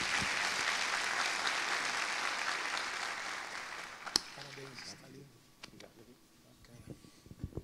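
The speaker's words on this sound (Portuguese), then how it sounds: "Aplausos para..." A live audience claps for an accompanying guitarist and singer at a Portuguese-language music performance, steady dense applause for about five seconds that thins into scattered claps, with faint voices underneath.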